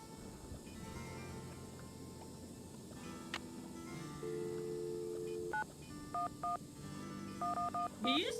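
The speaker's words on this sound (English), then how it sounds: "Did you just dial 911?" Telephone keypad tones from the Nancy Drew: Treasure in the Royal Tower video game sound as 911 is dialled, a few distinct beeps in short bursts near the end over quiet background hum.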